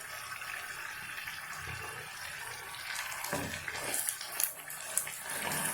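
Fenugreek (methi) puris frying in hot oil in a pan give a steady, close sizzle, with sharper crackles and bubbling bursts in the second half.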